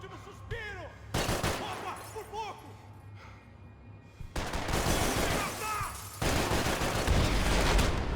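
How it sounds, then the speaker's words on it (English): Blind-fire gunshots in the video game Max Payne 3, sharp bursts of gunfire that start partway through and thicken into a dense, loud volley, with voices talking over the shooting. "Blind fire for the win"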